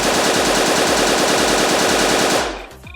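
Rapid bursts of automatic gunfire ring out in a video game, a loud continuous rattle of shots that stops abruptly near the end and leaves a brief quieter tail.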